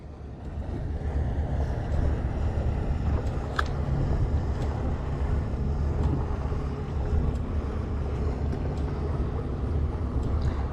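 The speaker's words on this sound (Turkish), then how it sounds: "Palamut için gezen teknelerin sayısı artmaya başladı." Steady low rumble of boat traffic at sea off Bakırköy, Istanbul, in September, mixed with wind buffeting the microphone and lapping water, continuous and fairly loud with no talk.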